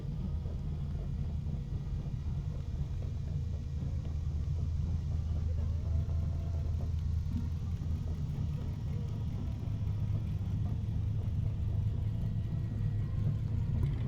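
Classic pre-1980 cars roll past in a Veterans Day parade in Redlands, giving a continuous low engine rumble and road noise at moderate loudness for the whole stretch.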